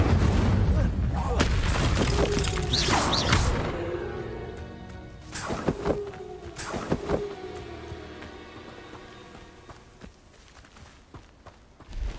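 Incendio fire spell cast in Hogwarts Legacy, a heavy whooshing burst with booming impacts at the start, followed by scattered thuds and crackles fading down.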